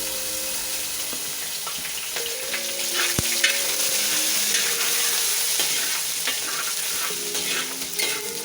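Ginger and garlic sizzle and fry steadily in a pan for a chicken curry, a bright continuous crackle with occasional stirring scrapes and clinks, close up and without talk.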